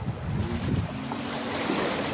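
Big ocean waves surge and roll in a continuous broad roar mixed with wind buffeting the microphone, steady and fairly loud with no talking.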